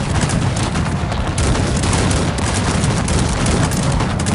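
Cannon fire in the real-time strategy game Cossacks 3, a dense, continuous roar of overlapping booms and musket-like volleys, loud and unbroken throughout.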